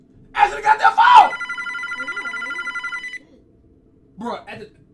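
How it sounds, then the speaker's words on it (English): Telephone ringing in a Five Nights at Freddy's fan game, a steady pulsing electronic ring lasting about two seconds, following an excited voice and followed later by brief speech. "Answer the goddamn phone!"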